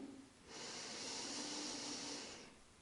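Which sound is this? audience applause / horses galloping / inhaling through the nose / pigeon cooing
inhaling through the nose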